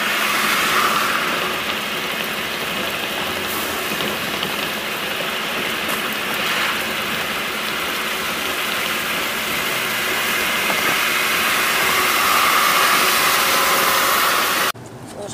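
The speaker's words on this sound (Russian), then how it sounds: "Уже попали под дождичек." Steady rain drumming on a car while driving under grey thunderclouds, a dense continuous patter over engine and road noise throughout, fairly loud and close, cutting off abruptly at the very end.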